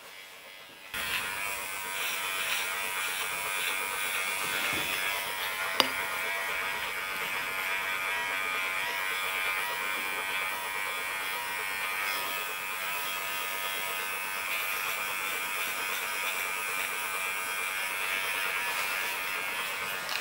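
An electric dog grooming clipper shaving a Bouvier des Flandres, a steady close buzzing whir that starts abruptly and runs continuously, with one brief click partway through.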